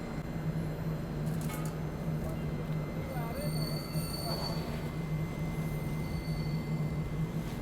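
A passenger train with red LHB coaches rolls out of a station loop line, a steady rumbling drone with intermittent high wheel squeals, heard from on board at moderate level.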